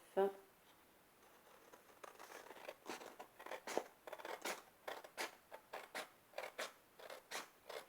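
Scissors cutting paper to size for a beginner scrapbook school-bag project: a quiet, steady run of crisp, regular snips, preceded by a brief voice at the start.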